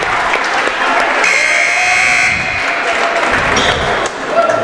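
Watertown fans at a boys high school basketball game applaud their coach in a standing ovation during a timeout, a steady wash of gym clapping and crowd noise with a sustained buzzer-like tone partway through.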